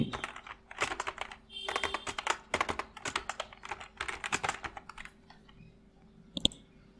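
Bursts of rapid key clicks on a computer keyboard while Bengali text is typed in CorelDRAW, with short pauses between words and one isolated keystroke near the end.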